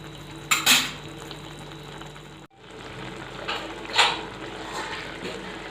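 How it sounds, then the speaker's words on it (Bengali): A lid set onto a pot of banana flower curry, two short metallic clanks a few seconds apart against a low kitchen background. "এবার ঢাকা দিয়ে দেব।"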